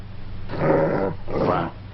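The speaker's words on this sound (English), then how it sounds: "It's a remarkable dog." A dog gives two low growling, whimpering bursts close by. Each lasts about half a second, and there is a short pause between them and no speech.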